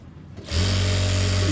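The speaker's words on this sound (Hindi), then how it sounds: "तो अब हम एक किनारे की सिलाई लगाएंगे इधर से" A sewing machine starts up about half a second in and runs at a steady, loud, close whir, stitching the side seam of a boy's cord set garment; the sound is alone, with only faint handling noise before it starts.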